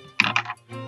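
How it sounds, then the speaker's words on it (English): Pencils scribbling on paper during an exam in a visual novel, heard as two short bursts of close, dry scratching followed by a fainter trailing scratch, with no voices. "the sounds of pencils scribbling on paper"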